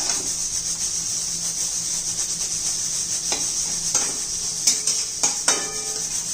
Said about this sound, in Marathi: भाजी एकदा हलवून घेऊया आपण